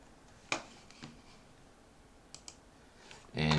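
Computer mouse clicks at a desk, a few sharp isolated clicks spaced across a quiet background, followed by a louder burst of noise at the end.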